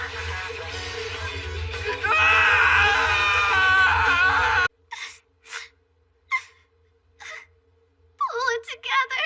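A person screams in anguish, a long, loud, strained cry that ends abruptly, followed by quieter gasping sobs and whimpers in short bursts.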